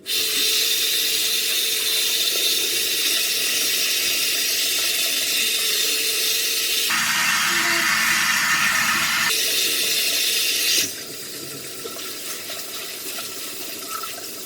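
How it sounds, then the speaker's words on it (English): Pumpkin seeds are rinsed in a colander under cool tap water in a kitchen sink while fingers rub off the pulp. A steady, loud rush of running water fills the clip, dropping to a softer flow near the end, with no talking. "And then I'm going to take them over to my sink and I'm going to rinse them off in cool water."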